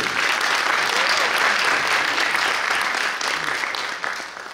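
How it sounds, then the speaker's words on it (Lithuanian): An audience applauds a band leader at a youth sung-poetry festival concert, with a full, continuous wash of clapping that tapers slightly toward the end. "Plojimai Andriui!"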